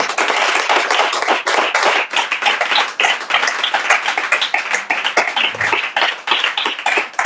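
A congregation clapping in a church to acclaim the Lord, loud, dense, continuous hand claps from many people close by, with no talking over them.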